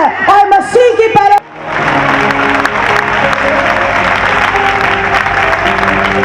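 A voice speaks briefly before loud, dense applause sweeps through a convention audience in Lahore, holding steady with faint shouts and tones mixed into the crowd noise.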